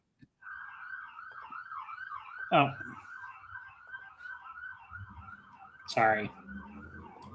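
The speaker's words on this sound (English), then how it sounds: "I was just muting as the siren went by." An emergency vehicle siren wails steadily in the background as it passes, with a couple of brief louder bursts from a nearby voice speaking over it.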